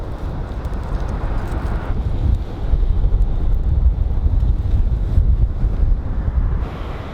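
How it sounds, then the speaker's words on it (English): Strong wind on the California coast at Point Reyes buffets the microphone in heavy, uneven gusts, a loud rumbling roar that swells and eases without pause. "It's super windy."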